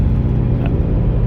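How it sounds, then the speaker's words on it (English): Twin-turbo Dodge Challenger Hellcat in third gear with a dog box transmission, loud steady engine rumble and whir as boost builds, continuous and close with no talk. "That beautiful, beautiful, beautiful sound of boost coming in."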